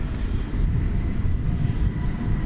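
A China Airlines Boeing 747 cargo jet at DFW Airport at night gives off a steady, loud, low engine roar and rumble with no break, heard from the ground while it prepares to depart.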